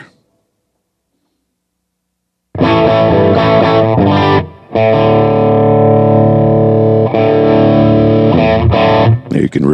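Electric guitar run through blended distortion pedals on a parallel effects mixer, a heavily distorted tone dominating; after a silent opening, loud sustained chords ring out with a brief dip midway.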